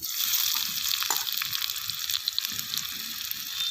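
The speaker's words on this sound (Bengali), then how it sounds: "কড়াইয়ের তেল গরম হয়ে গেছে পেঁয়াজ দিয়ে দেবো" Onion going into hot oil in a wok, a bright hissing sizzle that flares and then settles into a steady close crackle, with small pops and no speech.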